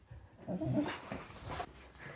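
Dogs move about in a room, giving soft whimpers and panting in short bursts at close range, with no talking.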